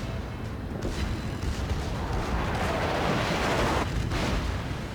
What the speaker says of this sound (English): I can't believe that Iowa's shooting HE.